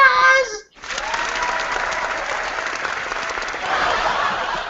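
Applause and cheering from a studio crowd at a comedy podcast taping fill the room steadily for several seconds after a brief spoken intro, loud and continuous.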